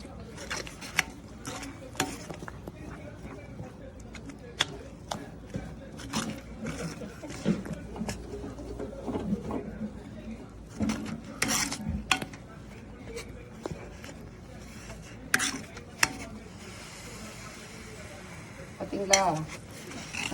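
A spoon stirs maida halwa in a pan over the stove, giving close, irregular scraping and clicking strokes that continue steadily throughout.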